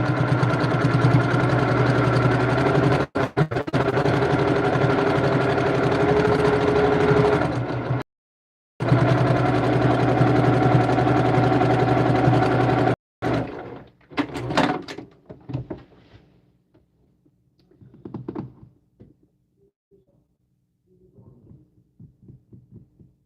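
A sewing machine stitching free motion quilting on a fabric doll pillow, running in a steady loud hum with brief stops, then giving way to short, sparse bursts of stitching that fade out.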